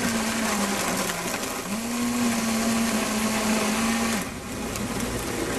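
A Vitamix blender runs loud and steady, its motor holding a continuous whine with a brief slowdown partway through and a dip near the end.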